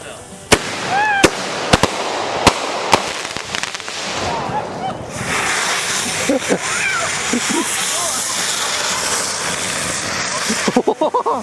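Fireworks in the woods: several sharp, loud cracks and pops burst in quick succession, followed by a steady fizzing rush and a fast rattle of crackling at the end, with people talking and exclaiming nearby.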